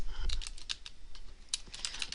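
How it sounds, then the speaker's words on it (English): Keys tap on a computer keyboard as Shift and Enter are pressed, then more typing follows: a quick, light run of close clicks at low volume with no speech. "you want to go Shift Enter on your keyboard and type in the address"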